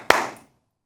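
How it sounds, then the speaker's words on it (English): A single sharp hand clap, close and loud, given as a command to switch smart-home lights back on, then a short decay into silence. "I'm going to clap them again for the lights to come back on"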